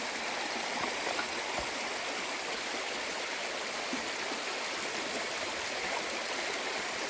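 Water rushes and burbles steadily in a river stream in Monga National Park, a constant broadband wash heard close with no voices over it.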